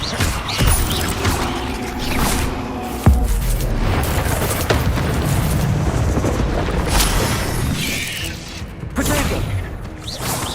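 Incendio fire spell blasts in Hogwarts Legacy, with booming bursts and crackling impacts among other combat noise and mechanical clanks, one sharp hit standing out.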